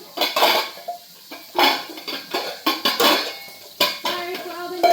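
Pots and pans clatter and bang as someone rummages deep in a kitchen cabinet, loud irregular metallic clanks in bursts with a cough in between.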